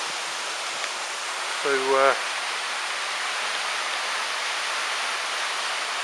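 Waterfall heard from a dry cave right behind it on a bush circuit walk, a loud steady rushing roar throughout, with a brief spoken word partway in.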